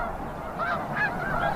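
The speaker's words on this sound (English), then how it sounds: "It's like so loud, like all the wings and all the geese like honking like all at the same time." A flock of snow geese at a festival in Delta, Utah, honking steadily all at once, a dense overlapping chorus of calls with louder honks rising near the middle and end.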